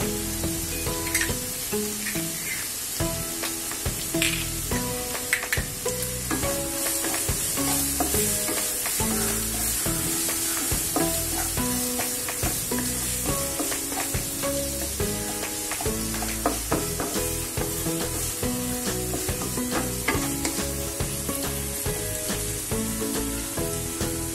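Onion, ginger and garlic sauté with turmeric and hing in a hot pan, giving a loud, continuous sizzle broken by frequent scraping and clinking stirs throughout.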